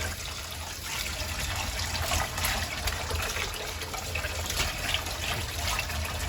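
Running water splashes and trickles steadily as a synthetic wig is rinsed after washing with detergent, a continuous close wash of sound with no talking.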